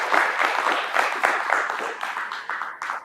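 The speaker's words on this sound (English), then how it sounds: "So I will just ask for a big round of applause for the" Sustained audience applause for a panel at an annual gathering, dense clapping from a crowd held at steady volume for about three seconds before thinning slightly at the end.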